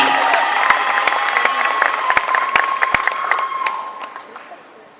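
A Comic Con cosplay contest crowd at Japan Expo applauds and cheers a World of Warcraft Human Demonist cosplayer, loud clapping with sharp individual claps and scattered shouts that gradually fade toward the end.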